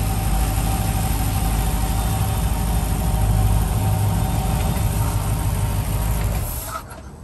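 Twin engines on a 2008 Mastercraft CSX 265 SS boat run after a cold start, a steady, close, loud rumbling drone that holds evenly before dropping off sharply near the end.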